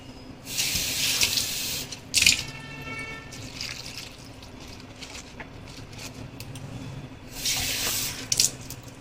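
Water gushes from a tap into a pressure cooker in two bursts, a few seconds apart, with quiet dripping and clatter between them.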